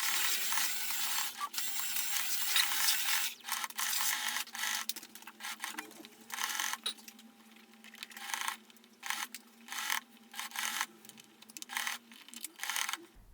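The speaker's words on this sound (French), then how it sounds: "Puis je couds ma doublure à mon tissu externe en respectant 1 cm de valeur couture" A sewing machine stitches handbag lining to outer fabric, a steady close whirring run for the first several seconds, then short separate bursts of stitching broken by brief pauses.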